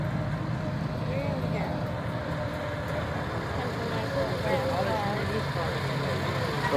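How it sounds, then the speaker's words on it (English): A Packard car rolls onto the show field at the AACA Fall Meet in Hershey, a low steady engine rumble amid background crowd chatter and nearby talking. "Little Packard driving in."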